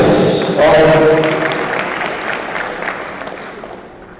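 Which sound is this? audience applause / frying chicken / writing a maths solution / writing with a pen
audience applause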